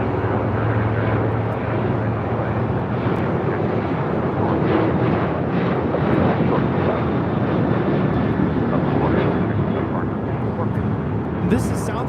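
United airliner taking off from runway 25 right at LAX, a loud, steady jet engine roar filling the whole stretch, close and continuous, with faint voices mixed in underneath.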